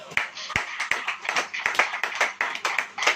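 A church congregation claps in steady rhythm, sharp hand claps repeating at a quick, even pace, fairly close and loud.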